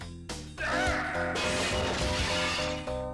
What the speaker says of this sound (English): That window crashing noise